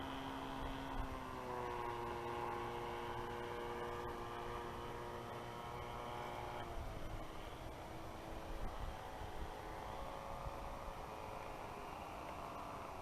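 A Sportsman Aviation Spitfire 60 model airplane on its maiden flight, flying slow and gentle: a faint, steady engine drone with shifting tonal whine, heard from a distance under light wind noise.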